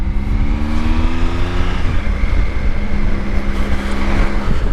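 A Triumph Tiger 955i motorcycle is ridden on Hollesley Common, its engine a loud, steady, close drone with a gear-like pitch shift midway and wind rush layered over it, with no speech.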